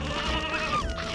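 Sheep in the video game Silicon Valley give a short, nasal bleat, clear and close, lasting about a second with no talking over it.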